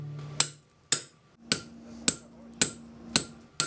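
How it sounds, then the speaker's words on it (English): Blacksmith driving a punch through a slot in hot metal, seven sharp ringing hammer strikes at a steady, roughly half-second beat, close and clear with short decays between blows. "I'm going to hammer it through."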